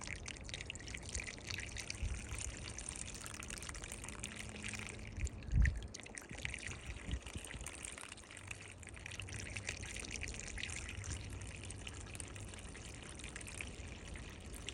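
Liquid rust remover poured into a container in a steady pouring trickle, close and continuous, with a brief louder splash near the middle.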